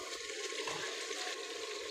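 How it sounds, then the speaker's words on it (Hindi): About a litre of water poured into a pot of browned nihari meat and spices, a steady rushing splash and gurgle that holds at an even level throughout. "ये तकरीबन हमारा 1 लीटर पानी इसमें हमने डाल दिया है।"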